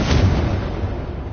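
A Confringo spell blast in Hogwarts Legacy, a loud, deep, close explosive boom that decays into a low rumble over about a second.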